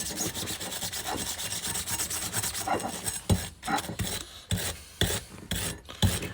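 Wire wheel polishing the axle bolts from a Honda ATC70 three-wheeler, a steady harsh rasping and scraping that runs continuously, with louder gritty bursts as the bolt is pressed against the bristles.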